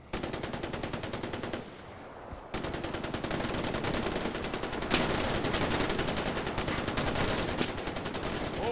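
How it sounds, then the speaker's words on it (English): Rapid automatic gunfire in the video game Far Cry 4, a dense stream of shots with a short gap early on, then sustained fire resuming and continuing loudly to the end. "they're just firing rounds left and right"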